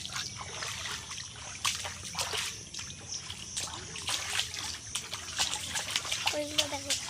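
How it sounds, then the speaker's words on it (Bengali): Floodwater after days of heavy rain trickles and splashes softly, a low continuous watery wash with scattered drips, heard under frequent nearby talking. "আমাদের এখানে খুব বৃষ্টি হয়েছে, তাই জন্য অনেকটাই জল বেড়ে আছে।"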